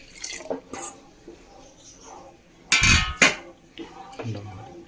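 Coconut milk poured into lentil payasam, with a short splashing pour around the middle, soft clinks of utensils against the pot, and quiet kitchen handling before and after.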